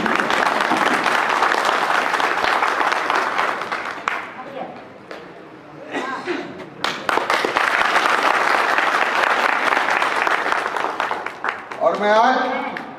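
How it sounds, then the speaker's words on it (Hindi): Loud applause from an audience at a public gathering honouring PRD personnel, dense clapping that swells, dips briefly and resumes, with a voice speaking over it at moments. "आप लोग जोरदार तालियों के साथ और जय उद्घोष के साथ इनका"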